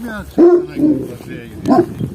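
Kangal dogs bark and snarl in short, agitated bursts, close by, with a voice talking over the scuffle.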